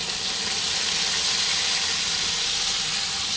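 Ginger, garlic and onion paste frying in an oil-filled pan for an Odia potol kasa, a steady loud broadband sizzle and hiss that runs unbroken throughout, close up with no talking.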